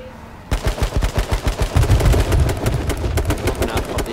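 Rapid automatic gunfire in the H1Z1 King of the Kill battle royale game, a quiet lead-in giving way to a loud, steady burst of closely spaced shots that rattles on for several seconds.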